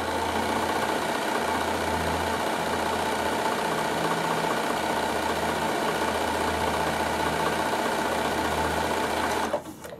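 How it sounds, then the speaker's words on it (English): A Bernina sewing machine runs steadily for about nine seconds, double overlock stitching a seam on a produce carry bag, with a continuous close motor whir that stops abruptly at the end. "I'm still going to double overlock it together because we're making our bag strong"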